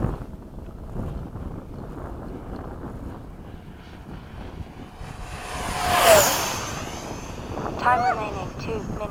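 An F-5 jet makes a downwind pass at an air show, its roar swelling from a distance to a loud peak and fading, with wind buffeting the microphone and people talking nearby.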